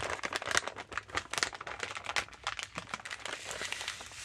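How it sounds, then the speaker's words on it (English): Crinkling and snipping as scissors cut into a plastic AfterShocks popping-candy package, a dense, close run of rustles and sharp crackles lasting several seconds at low volume. "I think I'm going to use a pair of scissors to open these up."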